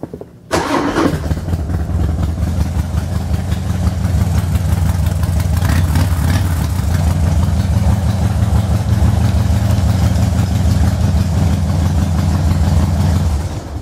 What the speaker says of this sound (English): I'll go ahead and fire it up here for you.